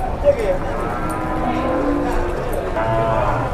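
A cow that fell into a parking area and was led to a hangar, its leg slightly hurt, lows in drawn-out moos under a crowd's steady chatter and ambient noise.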